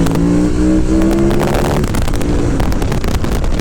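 A KTM 990 Adventure S motorcycle engine pulls hard in second gear around 5000 rpm, a loud rising roar with wind buffeting that drops into a rougher, choppier growl partway through.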